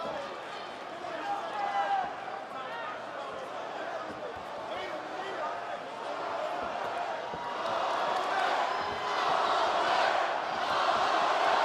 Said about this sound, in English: Atlanta crowd trying to get behind Max Holloway here.